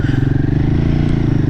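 A Royal Enfield Himalayan 450 motorcycle engine runs at low revs with a steady, throbbing pulse, loud and close throughout with no one talking.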